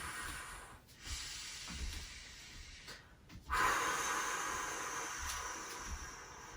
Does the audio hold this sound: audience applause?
no